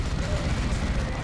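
Plasma cannon fire in Dawn of War 2, heavy booming blasts rumbling densely and continuously under a busy battle soundscape, with a commentator talking over it.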